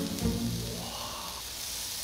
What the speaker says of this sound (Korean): 야 지글지글 소리를 와 오랜만에 듣는다